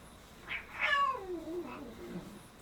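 A sick ivory-coloured cat meows nearby: a brief soft call, then one longer drawn-out meow that slides downward in pitch before trailing off.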